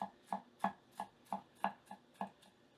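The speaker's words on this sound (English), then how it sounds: "Man, this knife cuts really good." A sharp Japanese gyuto knife chops through food on a cutting board in a steady series of about eight crisp, evenly spaced knocks, close and clear with no talking.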